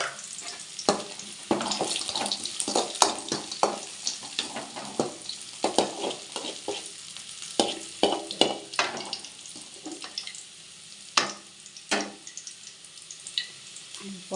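Golden onions with mint and curry leaves fry in a pan for a country chicken curry, a soft sizzle broken by repeated stirring scrapes and clatters, fairly quiet, with some background voice.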